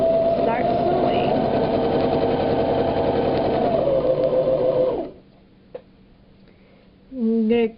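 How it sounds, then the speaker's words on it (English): A sewing machine stitches hair wefts with a steady, close, buzzing whir for about five seconds, stops, and then runs again in a brief burst near the end. "go ahead and start sewing"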